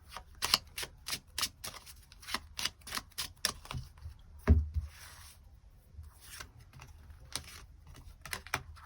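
Tarot cards being shuffled and drawn, heard as a run of soft, close, crisp card flicks and slaps in quick irregular bursts, with one heavier thump near the middle and no talking.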